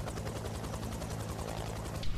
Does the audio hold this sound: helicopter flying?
yes